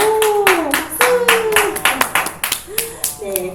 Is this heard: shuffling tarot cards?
no